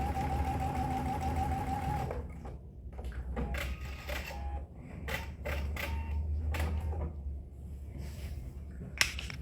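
A sewing machine stitches the corner of a fabric tissue tote, first running in a steady hum, then breaking into short bursts of stitching separated by brief pauses, close and fairly quiet.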